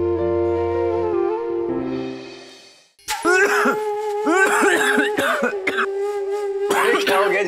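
Someone in an indoor domestic scene from a TV drama coughs in short bursts while laughing. Music plays first, then the laugh-coughs come in loud, close bursts.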